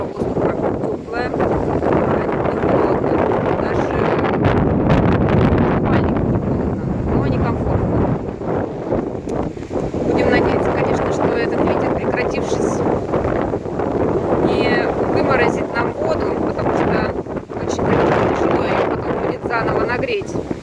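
Strong wind buffeting the microphone on the coast at Gelendzhik, a loud, roaring gusty rumble that swells and eases throughout, with someone talking over it.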